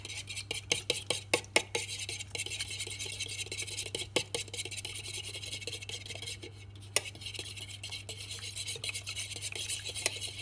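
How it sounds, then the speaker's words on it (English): Apple and cinnamon cake batter whisked by hand in a bowl, giving steady scraping and rubbing strokes with occasional sharper clinks of the utensil against the bowl, close up and continuous with no talking. "Now I'm going to whisk it."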